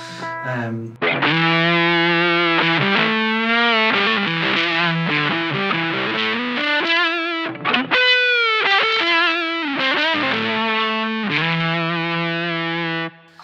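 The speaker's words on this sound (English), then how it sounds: "the other thing it does, is a fuzz, a ram's head fuzz circuit" Electric guitar played through a Ram's Head fuzz circuit, thick and buzzy, with sustained distorted notes and short bends, loud and close with brief gaps.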